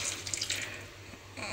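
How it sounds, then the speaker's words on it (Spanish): A little water is poured into tomato sauce in a home kitchen, a soft, brief splashing trickle over a low steady hum, quiet and close. "Le ponemos un poquito de agua."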